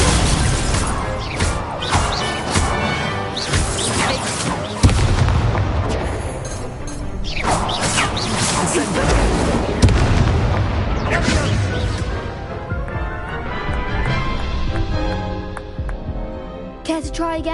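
Fiery Incendio spell blasts go off in a Hogwarts video game as loud booming bursts and crackling impacts, mixed with dense game effects and music over the whole stretch.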